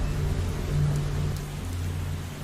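Steady rain falling in a scene from the Indian film Raayan, a soft continuous wash of drops with a low rumbling undertone, moderately loud throughout with no voices.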